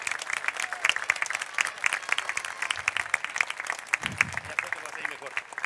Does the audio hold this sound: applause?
yes